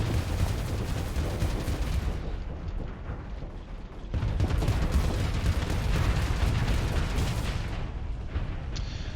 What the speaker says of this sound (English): Those ion cannons are a little annoying.